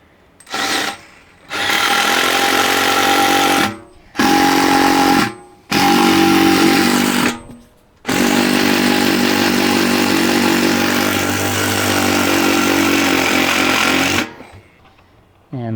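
An impact driver tightens a nut with a washer onto a homemade field drag, firing in several loud hammering bursts of a second or two, broken by short pauses, then one long sustained run before it stops.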